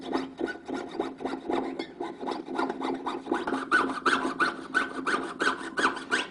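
A goldsmith's saw blade cuts through metal in a steady back-and-forth rhythm, each stroke a short rasping scrape heard close and fairly quiet, with no talking.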